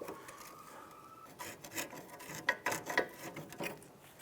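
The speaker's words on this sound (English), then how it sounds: "I'm going to go ahead and use a pry bar." A pry bar works a 2001-2005 Honda Civic steering knuckle off its strut, giving faint scraping, rubbing and a few sharp metallic clicks and knocks close by, growing busier toward the end.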